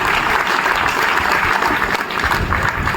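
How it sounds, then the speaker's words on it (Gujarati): An audience at a motivational talk breaks into loud, sustained applause, a dense clatter of clapping that fills the whole stretch without letup. "અને આ ઓળખ માટે મિત્રો જોરદાર તાળીઓ થવી જોઈએ."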